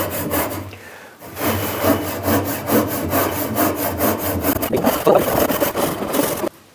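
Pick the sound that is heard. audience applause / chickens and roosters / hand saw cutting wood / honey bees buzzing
hand saw cutting wood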